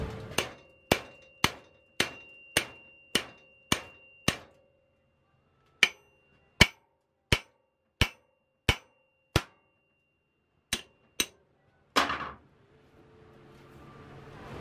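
Hammer smacking a tightened puller to break a part free of a rusty Panzer T758ES tractor axle, about eighteen sharp metallic clangs in a steady then spaced rhythm, ending in a duller thud as it lets go.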